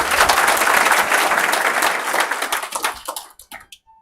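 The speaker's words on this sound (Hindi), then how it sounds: "गुरुकुल को और सुभाष जी को, आप सभी की तरफ से आपकी तालियों के माध्यम से।" Audience applause fills a packed seminar hall: dense, loud clapping holds steady for about three seconds, then thins into scattered individual claps that fade out.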